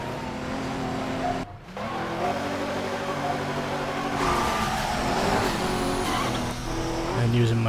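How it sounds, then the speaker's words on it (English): A car in the Midnight Club 3: DUB Edition Remix racing game hits a nitrous boost, its engine roaring steadily and rising in pitch with tire squeal mixed in, while someone talks over it. "using my first shot of nitrous and getting it out of the way"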